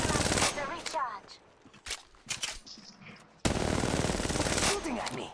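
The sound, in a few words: gunfire in Apex Legends Mobile video game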